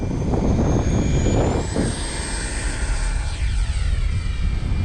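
A FlyFans L-39 64mm black diamond RC jet on its maiden flight makes a loud, continuous ducted-fan whine that rises in pitch, with heavy wind rumble over the microphone throughout.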